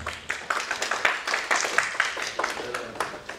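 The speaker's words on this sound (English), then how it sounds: "can we welcome sir with a huge round of applause?" A conference audience claps to welcome a speaker onto the stage, a steady patter of many hands fairly close and moderately loud, with no voices over it.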